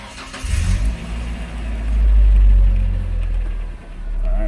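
A car engine with a lit check engine light cranks and catches after a sensor swap, then settles into a loud low rumble that rises and falls as it idles and revs slightly.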